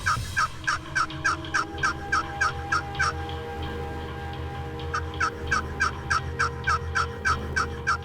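A wild turkey gobbles in timber, a series of rapid rattling gobbles in two bursts separated by a short pause, loud and fairly close over a low steady background hum.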